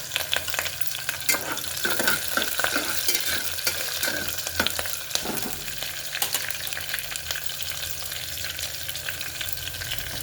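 Onions and green chillies frying in a pan while being stirred, a steady close sizzle with scraping stir strokes through the middle, for a soya keema biryani.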